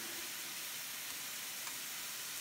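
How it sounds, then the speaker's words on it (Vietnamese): Chicken filling for banh cuon stir-fries in a pan over high heat, giving a steady, dense sizzle with a continuous bright hiss and no pauses. "Mình xào lửa thật là lớn."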